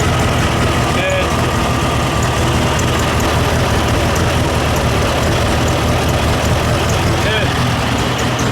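A turbocharged VW Beetle engine idles on a cold start, running lean with a steady, close, continuous rumble. Faint whining tones drift over the drone.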